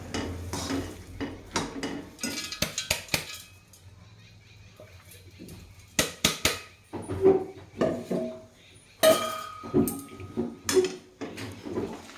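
Peanuts being stirred into a thick syrupy mixture in a pan for peanut chikki, giving scattered clinks and scrapes of a spoon against the metal pan, with bursts of activity separated by quieter pauses.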